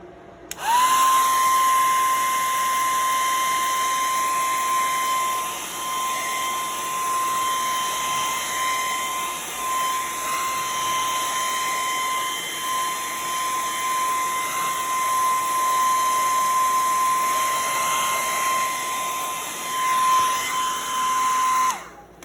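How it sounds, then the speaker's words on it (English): A blow dryer drying wet paint on a painting, a loud, steady, high whine with a constant tone that runs unbroken for about twenty seconds and then cuts off. "I should probably just throw the blow dryer on this real quick,"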